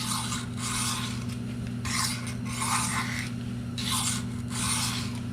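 Steel knife blade drawn along a sharpening stone or rod, sharpening a boning knife: three pairs of rasping strokes in a steady rhythm, close and clear over a constant low mechanical hum.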